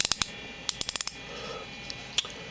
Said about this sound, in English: The drag clicks. The tension knob clicks.